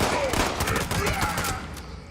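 Rapid gunshots ring out in the Fallout 76 video game during a fight against berserkers, a dense, loud burst of repeated shots with echoing game ambience behind.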